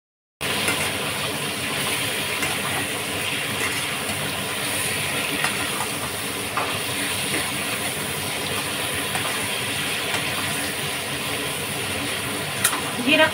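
Pieces of shankar fish (stingray) go into hot oil seasoned with five-spice and cumin seeds, giving a steady, loud, close sizzle and hiss that runs unbroken throughout, with no talking.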